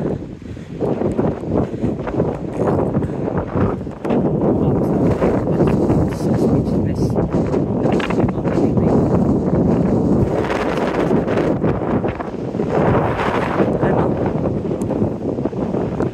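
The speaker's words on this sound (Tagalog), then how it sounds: "Grabe, mahangin dito" Strong wind blusters across the Squamish waterfront where windsurfers ride, gusting unevenly and loud against the microphone, with a person talking briefly underneath.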